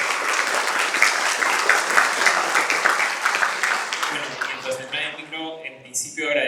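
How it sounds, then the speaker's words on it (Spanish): A lecture-hall audience gives a speaker at an international law seminar a dense, sustained round of applause that thins and trails off toward the end, with a few voices starting to speak as the clapping fades. "Fuertes aplausos para el doctor César Alejandro Nájar Becerra"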